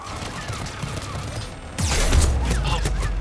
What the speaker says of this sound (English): Oh, bloody turrets!